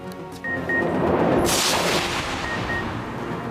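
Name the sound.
fireworks at a mayoral election victory celebration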